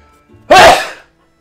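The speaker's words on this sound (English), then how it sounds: "Oh god, I gotta sneeze." A single loud, abrupt sneeze in a fantasy action game, bursting out after a soft lead-in breath and fading within about half a second.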